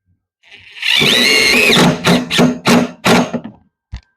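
Power drill driving a self-tapping screw to lock the leg of a falling tree prop in place: a sustained whirring run of about a second, then three short bursts as the screw seats, and a final brief tap.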